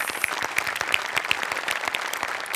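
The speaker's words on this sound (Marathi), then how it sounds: "तुझ्यासाठी विशेष टाळ्या." A studio audience at a Marathi comedy show claps in a dense, steady round of applause, close and continuous for a few seconds.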